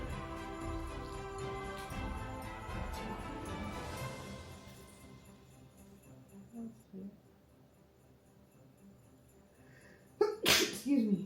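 A single sharp sneeze bursts out near the end, loud and close, following a stretch of mixed background sounds and faint voices while a gingerbread house is being built.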